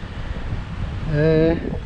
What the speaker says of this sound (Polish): jest dzisiaj dosyć mocny wiatr